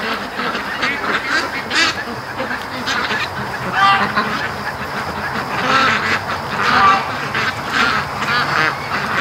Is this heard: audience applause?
no